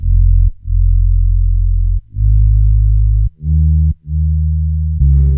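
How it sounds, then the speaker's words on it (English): Very low, loud bass line from a one-shot sample in a beat production, built from long sustained deep notes separated by short gaps, with a brighter element entering at the end. "It sounds like this, very low. It's a beautiful bass line."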